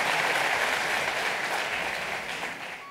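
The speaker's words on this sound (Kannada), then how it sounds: "ಈ ಸಾಧಕನಿಗೆ, ಯುವ ಸಾಧಕನಿಗೆ ಇನ್ನಷ್ಟು ಚಪ್ಪಾಳೆಗಳು ಬರಲಿ" Applause for a young achiever at the Asamanya Kannadiga Awards ceremony: broad, even clapping from a large audience, continuous and full, tapering off slightly toward the end.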